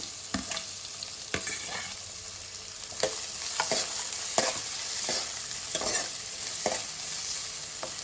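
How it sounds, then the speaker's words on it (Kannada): Curry leaves, chopped green chili and onion fry in oil for rajma curry, a loud, close, continuous sizzle punctuated by regular spoon scrapes and taps against the pan, with no speech. "ಒಂದು 5-6 ಕರಿಬೇವಿನ ಎಲೆಗಳು, ಹಾಗೆ ಹೆಚ್ಚಿಟ್ಕೊಂಡಿರೋ ಒಂದು ಹಸಿಮೆಣಸಿನಕಾಯಿ, ಹಾಗೆ ಹೆಚ್ಚಿಟ್ಕೊಂಡಿರುವಂಥ ಈರುಳ್ಳಿ, ಇದನ್ನು ಸೇರಿಸ್ಕೊಂಡು ಫ್ರೈ ಮಾಡ್ಕೊಳ್ತೇನೆ"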